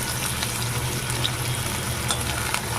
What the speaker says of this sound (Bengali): এবার প্রথমে পেঁয়াজগুলোকে হালকা করে ভেজে নেব